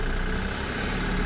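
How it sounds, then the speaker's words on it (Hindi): Mahindra Maximo mini truck engine running, a dense, steady diesel drone heard close up from inside the cab, loud and unbroken for a short stretch. "आप सुन पा रहे होंगे टेम्पो की साउंड।"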